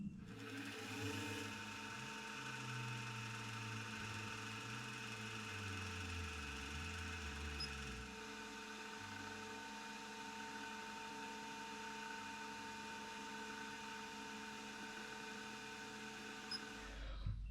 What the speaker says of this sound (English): I'm just going to drill these and then I'll use a half-inch end mill and just open these slots up.